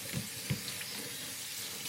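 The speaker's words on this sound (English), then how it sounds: "Cool it down with cold water." Cold water runs from a kitchen tap over cooked chow mein noodles, a steady close hiss and splash into the sink with a couple of soft knocks near the start.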